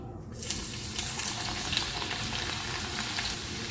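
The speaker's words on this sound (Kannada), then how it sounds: "ಅದು ಎಣ್ಣೆ ಬಿಸಿ ಆಗ್ತಾ ಬರುವ ಅದಕ್ಕೆ ನಾವು 2 ಟೇಬಲ್ ಸ್ಪೂನ್ ಅಷ್ಟು ಚಾಪ್ಡ್ ಗಾರ್ಲಿಕನ್ನು ಹಾಕ್ಕೊಳ್ಳೋಣ." Chopped garlic hits hot refined oil in a kadai and bursts into a loud, continuous sizzle that holds steady and close, with faint crackles and no voices.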